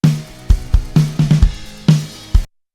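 Recorded snare drum hits edited tight to a grid, about eight crisp, loud strikes including a quick flam-like pair, falling in a steady quantized pattern, close-miked with short resonant ring and no talking.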